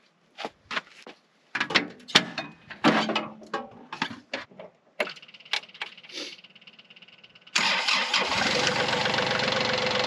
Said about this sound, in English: I'm going to start the tractor and just pull it forward ever so slightly